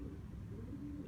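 Pet pigeons or doves kept on a rooftop loft, giving low, soft cooing close by over a steady background hum.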